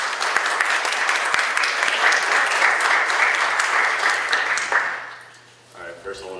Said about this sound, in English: let's just give them a round of applause to welcome them